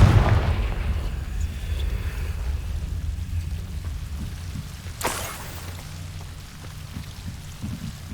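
The Confringo blasting spell explodes in Hogwarts Legacy, heard as a single sharp burst partway through against a steady hissing, rain-like background and low rumble.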